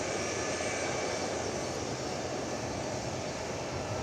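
A Boeing 757 taxis at DFW Airport, its engines a steady, broad roaring drone that stays even and fairly close throughout.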